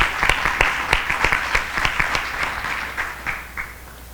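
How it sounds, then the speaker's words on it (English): An audience at a North Carolina school district accountability event applauds a school principal, a steady patter of many hands clapping with some sharper individual claps, fading slightly toward the end. "Let's give Principal French another round of applause."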